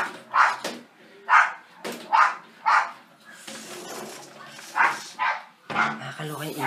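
A dog barks repeatedly in short, spaced bursts, fairly close, with a few softer yelps and some overlapping noise between barks.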